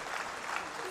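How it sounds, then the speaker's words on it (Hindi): Audience clapping hands in thanks at a gathering, a brisk, dense burst of many hands applauding together, steady and fairly close with no pauses, with voices mixed in. "हम दोनों हाथों से करतल ध्वनि से ताली बजाते हुए इन सभी कार्यकर्ताओं का धन्यवाद करें"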